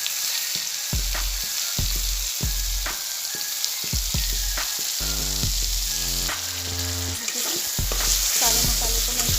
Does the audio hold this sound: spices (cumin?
yes